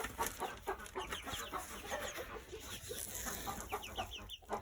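Chickens clucking on a small farm: many birds clucking and chattering at once in a continuous busy flock, with a few louder squawks near the end.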